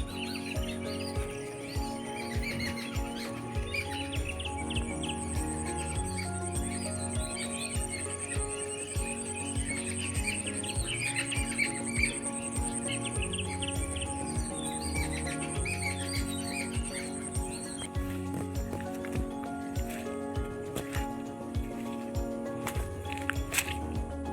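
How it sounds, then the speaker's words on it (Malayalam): Birds chirp and call steadily outdoors in a quiet rural yard, with a continuous insect-like trill and soft ambient noise throughout, fairly faint. "ഇവിടെ നിശബ്ദമായി നിന്ന നല്ല കിളികളെ ശബ്ദമെല്ലാം കേൾക്കാം"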